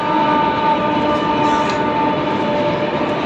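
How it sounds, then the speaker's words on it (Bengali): Loud continuous rumble of a train going past nearby at Dakshineswar Kali Temple, Kolkata, steady and droning with a faint whine on top. "পাশে ট্রেনের আওয়াজ শোনা যাচ্ছে কারণ পাশেই ট্রেন লাইন"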